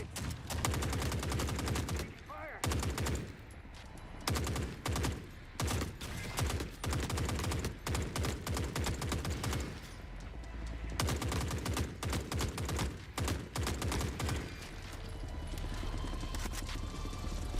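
Dense bursts of automatic gunfire from the war shooter Forever Winter, loud and close, rattling in long volleys broken by brief pauses across the whole stretch.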